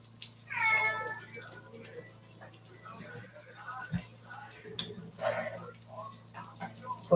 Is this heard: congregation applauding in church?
no